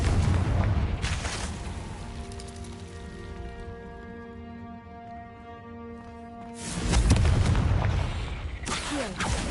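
A Confringo fire spell explodes in Hogwarts Legacy: a rough burst opens, a low droning tone holds through the middle, then a loud, heavy booming blast rumbles out near the end, with no talking.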